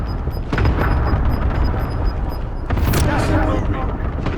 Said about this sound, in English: Oh, missile strike.